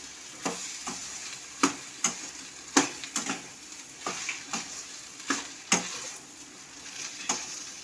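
Chicken fried rice made with home rice gets stirred in a pan, and a spatula scrapes and taps the metal in an irregular series of sharp strokes over a faint sizzle; nobody speaks.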